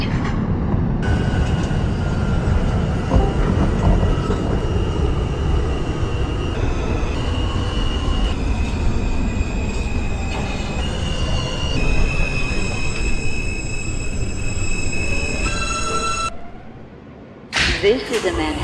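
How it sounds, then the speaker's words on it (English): An R160A subway train on the R line in the openbve train simulator game runs loudly and steadily, with rumbling wheels and sustained squealing tones that shift in pitch, then a short drop before the noise resumes. "This is a Manhattan-bound R train"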